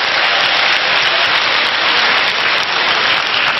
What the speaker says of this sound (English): let me get a round of applause for Kings County Hospital